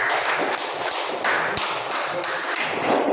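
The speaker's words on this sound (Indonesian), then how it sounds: "Tepuk tangan, sekali lagi." A class claps hands together in sustained, dense applause, loud and close, with rhythmic swells throughout.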